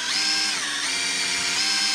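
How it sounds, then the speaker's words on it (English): A steady, high-pitched electric drill whine runs continuously at close range, driving the oil pump to prime an LS engine, with a slight dip in pitch partway through as the load changes. "Now I got my drill hooked to the drill pump there."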